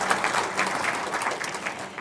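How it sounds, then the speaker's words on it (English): An audience at an International Women's Day celebration gives a round of applause, a dense, even wash of many hands clapping together for a couple of seconds, fairly loud and steady. "So a round of applause, please"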